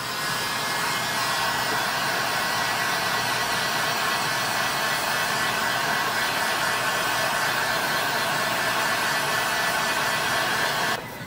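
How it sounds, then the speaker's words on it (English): Heat gun blowing hot air over dispersion paint, a steady loud hiss-like whoosh running continuously for about eleven seconds before cutting off abruptly at the end, with no talk. "hitting it with your heat gun will also help everything to level out"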